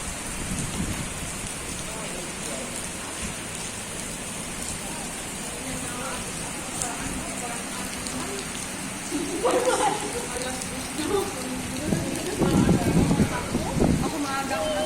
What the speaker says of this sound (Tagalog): Pumapatak na naman ang ulan sa bubong ng